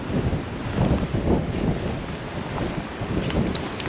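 Wind buffets the microphone on an exposed bank of the River Humber during a night of cod fishing, a steady loud rumbling roar that swells and eases in gusts with no voices.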